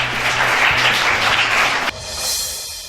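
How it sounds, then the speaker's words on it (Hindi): An audience at a student quiz selection round applauds the top-ranked student, dense clapping that cuts off abruptly near the end, followed by a brief quieter tail. "नंबर 1 रही स्टूडेंट विनाक्षी को जोरदार तालियां फिर से"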